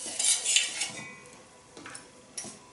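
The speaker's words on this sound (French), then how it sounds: "Alors, vous mélangez tous ces ingrédients." Gazpacho amuse-bouche ingredients being mixed in a bowl, a utensil scraping and clinking in quick strokes early on, then softer intermittent stirring taps, close and fairly quiet with no talk.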